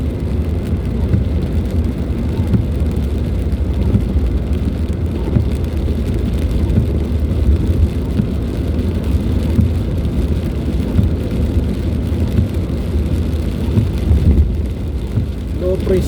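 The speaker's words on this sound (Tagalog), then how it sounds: "Ayan na guys, lumakas na dito ang ulan guys." Heavy typhoon rain from Typhoon Crising in Lipa, Batangas, a steady loud wash of downpour with no pause and no wind gusts, heard close throughout with low road or engine rumble beneath.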